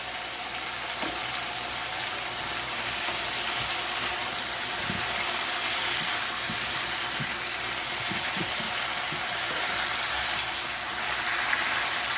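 Cumin powder frying in a pan for a green chicken curry gives a steady, even hiss of hot oil, with faint scattered clicks and scrapes underneath, continuous throughout and no talking.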